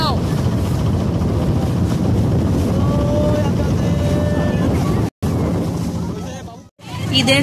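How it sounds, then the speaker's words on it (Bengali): A motor trawler boat engine drones steadily under rushing wind, while people talk over it; the sound cuts out briefly twice near the end. "আমরা এখন ট্রলারে জার্নি করছি"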